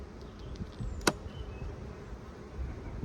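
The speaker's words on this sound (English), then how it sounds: "brimming with bees" Honey bees swarming over a hive super heavy with honey, a soft, low, continuous buzz close by, with one sharp brief bee passing near the microphone.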